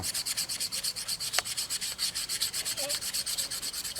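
A knife blade is drawn across a sharpening stone again and again in steady rhythmic strokes, giving a close, scraping rasp at about four or five strokes per second with no speech.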